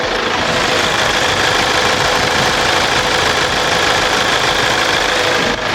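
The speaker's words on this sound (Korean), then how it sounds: "제가 엔진 소음을 담기 위해 본네트를 한번 열어봤는데요 그럼 바로 엔진 소음 한번 담아보도록 하겠습니다" Diesel engine of a nine-seat Kia All New Carnival Hi-Limousine idling with the hood open, a steady close, loud, even clatter and hum holding without change throughout.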